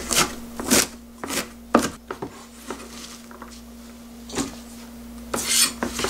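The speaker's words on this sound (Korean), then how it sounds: "달래를 한번 잘라보는데요" Kitchen knife slicing through thick, freshly dug wild chives (dallae) on a cutting board, a few crisp raspy strokes spaced irregularly across the moment, close and fairly quiet with no talking.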